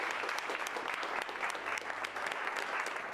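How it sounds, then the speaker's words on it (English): Audience applauding a film crew, steady dense clapping throughout, moderately loud and close with no talking over it. "give up a little round of applause for yourselves"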